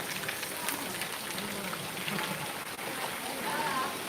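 Steady rain falling outdoors on a day after Diwali, a continuous hiss of drops on surfaces with a faint voice in the background.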